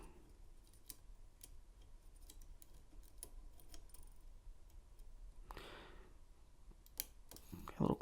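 A Lishi pick clicks faintly inside a 2021 Honda lock, giving light, sparse metallic ticks over steady background hiss, then a louder scrape and a brief jangle near the end.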